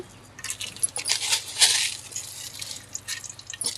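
Curry leaves, mustard seeds and cumin hitting hot oil in a pan, a close crackling sizzle with scattered sharp pops and spits, uneven and bursty over several seconds, heard without talk.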